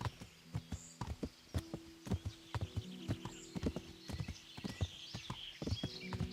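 A horse's hooves clip-clop at a walking pace in the medieval game Kingdom Come: Deliverance, steady close hoofbeats with a brief whinny-like tone and faint background ambience.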